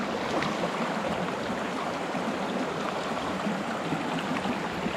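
A river flows steadily, a dense, even hiss of running water heard at moderate level with no talking throughout.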